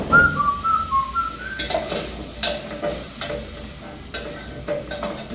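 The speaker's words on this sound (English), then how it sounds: "My onions shall cook for some time before I add the garlic." Onions fry in oil in a pan, a close steady sizzle with a few utensil scrapes and knocks, while a whistling tone sounds briefly at the start.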